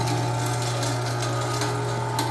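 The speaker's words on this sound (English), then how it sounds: "The grinder can only grind so much, so fast." A meat grinder steadily grinding raw cat food, a continuous motor hum and churning drone at an even level, close and with no pauses.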